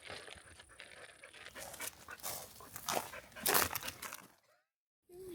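A dog pants in rapid, breathy bursts on a mountain backpacking loop trail, steady and fairly close before a brief drop to silence near the end.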